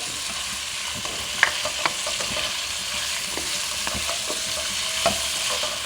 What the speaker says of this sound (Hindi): हम इसको हल्का सा फ्राई करेंगे।